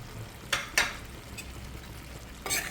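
Jackfruit seed curry being stirred in a pan after coconut and coriander are added, with a soft simmering hiss underneath and a few sharp spoon scrapes and clinks against the pot.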